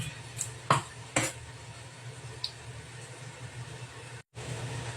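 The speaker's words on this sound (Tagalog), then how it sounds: "Ganunin natin, chop yung bawang." A knife chopping garlic gives two sharp knocks close together, then a fainter tap a moment later, over a steady low background hum.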